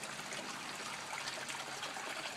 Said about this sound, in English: the other acts as an aerator for the water flowing in